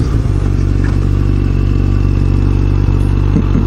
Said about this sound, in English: Just nearly dropped my bike down a ditch.